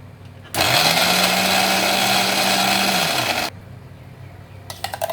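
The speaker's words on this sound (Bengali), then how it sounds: "এর সাথে 2 টেবিল চামচ টক দই দিয়ে আমি এটাকে ব্লেন্ড করব।" A kitchen blender runs for about three seconds, grinding spices with two tablespoons of sour yogurt for chicken korma, starting with a sharp rise and stopping abruptly, loud and steady with nothing else over it.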